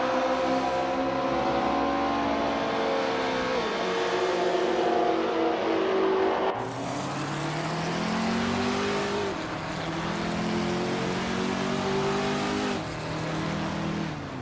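Race car engines in a racing video game rev hard and shift through gears, rising whines climbing and dropping in repeated sweeps, loud and close, with a sharper burst midway as the cars push on, no voices.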